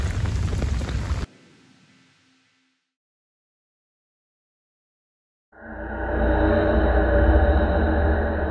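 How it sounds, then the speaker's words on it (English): Heavy rain pours down on a flooded campsite during a severe storm, a dense roaring downpour that cuts off abruptly, falls silent, then returns loud and steady. "A lot of rain."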